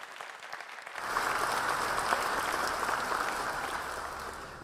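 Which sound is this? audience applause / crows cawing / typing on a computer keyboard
audience applause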